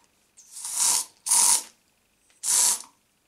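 A can of pine air freshener gives three short hissing sprays, each lasting about half a second, with brief pauses between them, close and loud in a quiet room.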